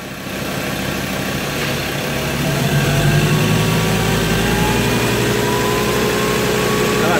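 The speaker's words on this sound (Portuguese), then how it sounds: "Olha lá, pessoal, vai, acelera." A car engine idles and then rises into a sustained rev during servicing, holding a steady loud drone with a rising tone, close by in a workshop.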